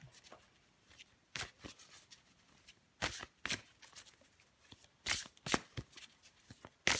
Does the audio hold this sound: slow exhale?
no